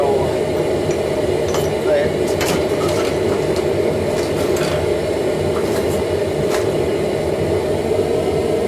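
A forge runs hot while a steel bolt, part of a homemade striking anvil, heats up during knife hardening. A steady, loud roar fills the whole clip, with a few faint metallic clinks.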